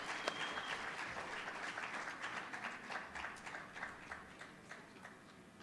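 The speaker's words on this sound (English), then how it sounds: "What are we applauding? The honorees." Awards ceremony audience applauding honorees, a steady wash of many hands clapping throughout, fairly even in loudness with a slight swell and dip, no voices on top.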